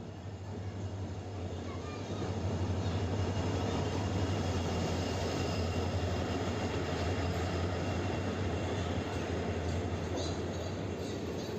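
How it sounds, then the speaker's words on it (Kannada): The Vijayapura–Yesvantpur special train pulls into platform 1 at a station, a loud steady rumble of wheels and engine sustained throughout with a low droning hum. "ವಿಜಯಪುರ ಯಶವಂತಪುರ ಸ್ಪೆಷಲ್ ಟ್ರೈನ್ ಇದು ಬಂದಿದ್ದು ಪ್ಲಾಟ್ಫಾರ್ಮ್ 1ಅಲ್ಲಿ."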